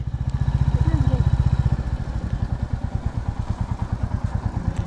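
A motorcycle engine idles nearby with a steady low chugging pulse, loud at first and then settling into a rhythmic putter.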